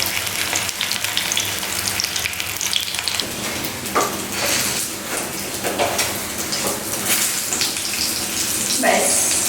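Bora fritters frying in oil in a pan on a gas stove, a steady close hiss and crackle with occasional louder sputters and scraping stirs throughout.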